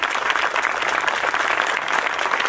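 Dense, steady audience applause at a sports award ceremony, continuous clapping at even loudness throughout with no voices on top.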